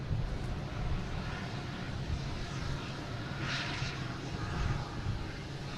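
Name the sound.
A340 airliner landing at Boston Logan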